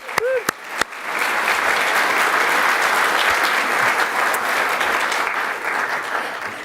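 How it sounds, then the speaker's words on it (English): An audience at a memorial celebration of life breaks into a big, sustained round of applause, steady and dense, lasting several seconds after a few isolated claps at the start. "can we just do a big applause and welcome all of our folks online?"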